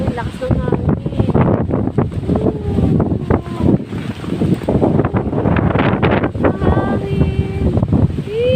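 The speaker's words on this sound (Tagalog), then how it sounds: "Ayun, lakas ng hangin." Strong wind buffets the microphone in a constant roar outside Caleruega Church, with people talking faintly underneath.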